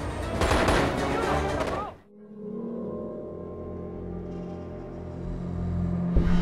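Rapid automatic gunfire with incendiary ammunition roars loudly in the video game Crysis, then cuts off into a lingering low rumble and echoing tail as a voice talks over it.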